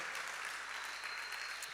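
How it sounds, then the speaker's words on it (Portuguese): Sustained applause from a church congregation, a dense, even wash of clapping that holds steady throughout the short span with no voices over it. "Pode dar uma salva de palmas para Jesus?"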